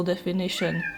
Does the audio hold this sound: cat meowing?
yes